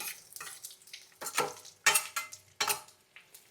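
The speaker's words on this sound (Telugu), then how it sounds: "తర్వాత ఎండు ద్రాక్ష కూడా వేసేసుకొని ఫ్రై చేసుకుందాం" Cashews and raisins sizzle in a pan over low flame while being stirred, a close, crackling fry with scraping bursts of the spoon against the pan, no speech.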